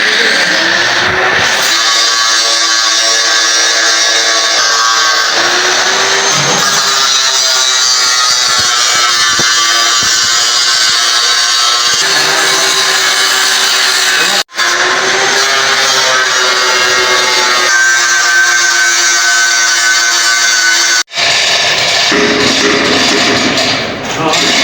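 A grinder runs loud and close in a steady high whine with strong overtones, its pitch dipping as it bites and cutting out briefly twice, while people talk over it.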